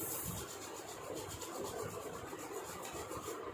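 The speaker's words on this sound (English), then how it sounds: "Slowly rub your hands." Palms rubbing together during a guided yoga or meditation session, making a steady, soft, continuous rasping friction with a faint rhythmic pulse, close and unaccompanied by talk.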